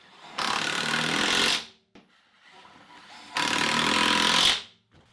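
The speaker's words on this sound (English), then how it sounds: "So what you would do is you would put a screw through this and into a stud." A Ridgid 12V palm impact driver drives a screw into a wall stud, giving two loud, close, rattling hammering bursts of about a second each, separated by a short quieter gap.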